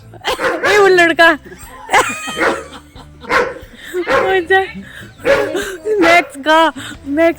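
Village dog barking repeatedly in loud, close yaps and bow-wows, bursts coming in quick succession throughout with whimpering tones, mixed with people talking nearby.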